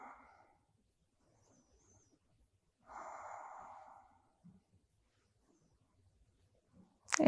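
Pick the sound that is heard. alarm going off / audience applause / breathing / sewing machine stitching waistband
breathing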